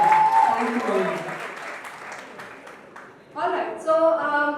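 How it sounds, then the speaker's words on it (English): Audience clapping for Mahima at a college event show, a thinner scatter of claps that fades out before a voice starts talking near the end. "a huge round of applause for Mahima again"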